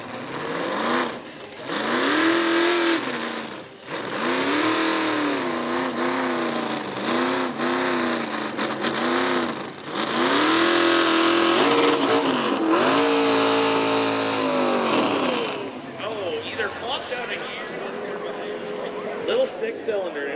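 A small 6-cylinder pulling truck competes at a tractor pull at the Vermilion Fair. The engine revs up and down repeatedly in rising and falling surges, with a public-address voice heard over the run.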